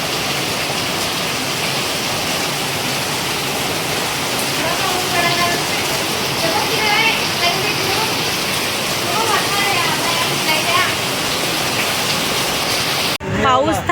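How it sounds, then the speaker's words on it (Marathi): Heavy monsoon rain pours down outside a house, a dense, loud, continuous roar of water that fills the whole scene, with a voice speaking faintly under it and a brief disturbance near the end. "बघा केवढा पाऊस"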